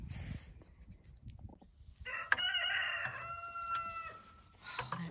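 A rooster crows once at a farm in Ohio during maple tree tapping, a loud harmonic cock-a-doodle-doo standing out clearly from quiet outdoor background noise.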